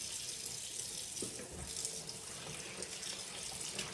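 A tap runs steadily into a sink to soak collard greens, a continuous close splashing wash of water with no talking.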